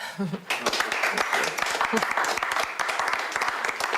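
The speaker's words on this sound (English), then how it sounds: "The grudging applause." Scattered, grudging applause from a meeting audience, a few dozen quick claps under a faint murmur of voices, fairly close and steady for several seconds after a brief pause.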